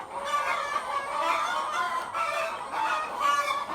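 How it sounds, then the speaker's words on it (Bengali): Laying hens frightened at night in a poultry shed, a dense, loud chorus of agitated clucking and screeching cries that rises and falls continuously throughout. "ডরাই আপনার মুরগিগুলা দেখেন চিৎকার বাড়তেছে"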